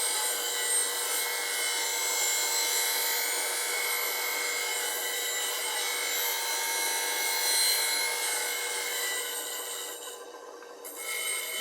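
A bench grinder grinds the heel of a steel bowl gouge, a steady high-pitched hissing whine holding constant for about ten seconds before easing off briefly near the end, close and loud, with no talking.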